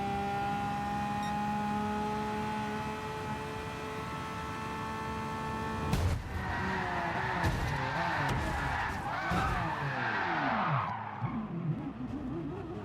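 A Bugatti Veyron race car in the video game Gran Turismo Sport roars at steady high revs, then brakes and skids with tire squeal and shifting engine tones amid other cars, loud and close throughout.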